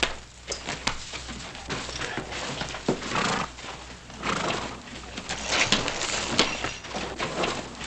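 A horse in an old Wild West town street whinnies while hooves clip-clop on the ground, mixed with busy background movement and noise, fairly loud throughout.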